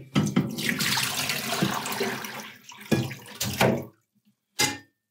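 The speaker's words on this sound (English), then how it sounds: "let's go over to the sink," Water runs from a sink tap while blackened wood is rinsed under it, a close splashing gush with brief interruptions, then stops and gives one short final splash.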